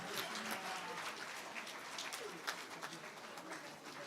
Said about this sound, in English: Please clap one more time.